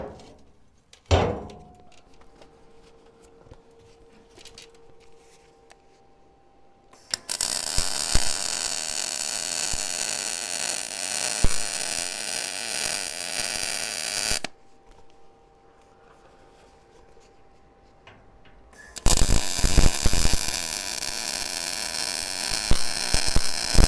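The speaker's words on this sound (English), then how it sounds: "Time to weld these up" Arc welding on the steel hot plate frame of an offset smoker firebox: two long, steady crackling buzzes, each several seconds, separated by a quiet pause with faint hum.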